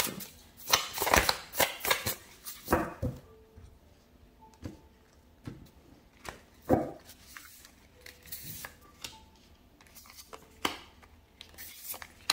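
Tarot cards being shuffled in repeated crisp riffling bursts, close and fairly loud, with short pauses between bursts and faint talk in the background.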